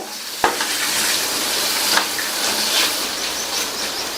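Continuous sizzling of peas frying in masala in a pan, with occasional scraping stirs, close and fairly loud, no talking.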